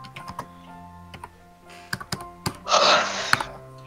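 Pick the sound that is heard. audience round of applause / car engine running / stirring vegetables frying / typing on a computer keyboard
typing on a computer keyboard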